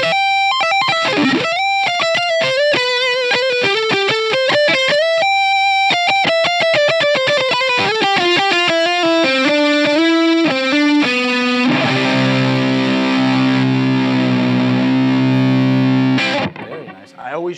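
An Ibanez RG550LRF Road Flare Red electric guitar plays a fast run of distorted single notes on its neck pickup, then settles into a loud, ringing, sustained chord that fades out at the end.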